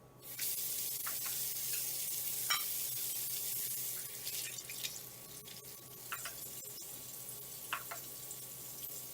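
Water runs steadily, like a tap filling a measuring cup, a close hissing stream lasting several seconds with a few faint clinks and drips as it tapers off.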